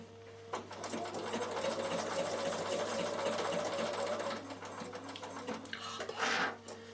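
A Bernina sewing machine stitches wool applique on a draught stopper, a close, steady rapid whirring run of several seconds that stops, then a short faint handling sound.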